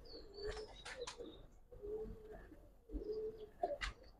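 A female Giribaz pigeon coos in a few soft, close, low-pitched phrases separated by short pauses, with faint chirps and shuffling around it.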